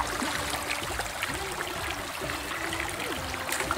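Cold spring water flowing in a steady, continuous burble and trickle from a natural mountain source, close and fairly loud, with faint gurgling throughout.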